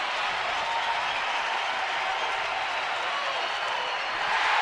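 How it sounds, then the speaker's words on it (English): Nearly 34,000 fans in a baseball stadium cheer and applaud in a dense, steady roar that swells slightly at the end, with a faint voice underneath. "How about this crowd? They're getting excited now. Many of them getting to their feet. This place is loud."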